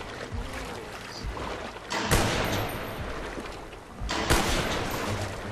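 Gunfire in the zombie video game Call of the Dead cracks out as two loud, broad bursts a couple of seconds apart, over a steady rumbling background.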